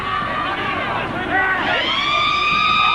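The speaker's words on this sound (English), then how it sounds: "And there's the siren." A loud, sustained full-time siren wails with sliding pitch at a 1984 Penrith versus Illawarra rugby league match, over a constant roar of crowd and ambient noise.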